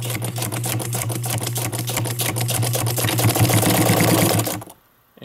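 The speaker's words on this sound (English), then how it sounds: "Again, we'll do some back stitching." A vintage Necchi BU sewing machine back stitches with a fast, even mechanical clatter and hum, loud and close, stopping abruptly near the end.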